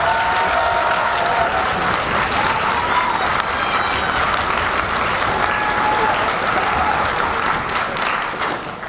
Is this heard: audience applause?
yes